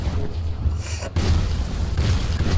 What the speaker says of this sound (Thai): เฮ้ยเรียบร้อยครับระเบิดแล้ว